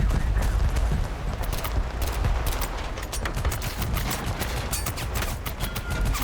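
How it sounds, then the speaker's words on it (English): Gunfire in the military shooter game Total Conflict: Resistance, dense overlapping bursts of rapid automatic fire and shots that continue without pause, loud and close throughout. "The guy's shooting at us from behind"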